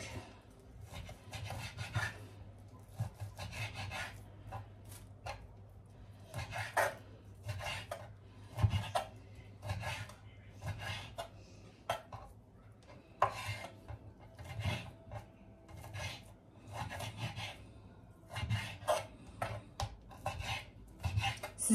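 A knife chops sacrificial Kurban meat into small pieces in a steady run of close, sharp strikes against a cutting surface, repeating for about twenty seconds without voices.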